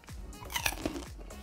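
Crunching of caramel and chocolate-coated gourmet popcorn being bitten and chewed up close, a quick run of crisp, crackly bursts with no talking.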